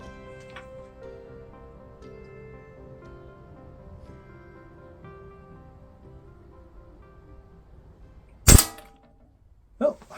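A break barrel air rifle fires one sharp, loud crack late in the clip and a second brief impact or click follows, after a stretch of quiet low hum.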